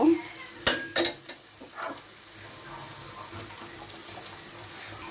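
Pieces of rohu fish are added to a simmering raw-banana curry in a pot, a few clinks and clatters of utensils on metal followed by a soft, steady bubbling simmer.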